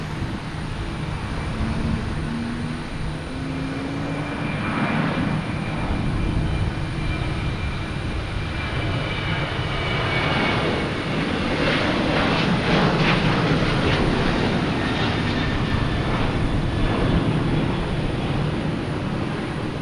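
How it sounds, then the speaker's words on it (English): A Southwest airliner takes off at Boston Logan Airport, its engines producing a steady, loud jet roar that swells slightly midway and holds throughout, with no voices. "Next taking off is Southwest, heading to Baltimore."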